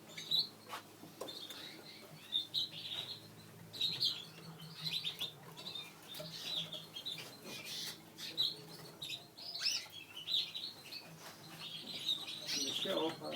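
Frilled canaries, including a blue frill bird bred for shows, chirp with short bright tweets in steady bursts throughout, moderately close, with faint low background hum and occasional soft voices.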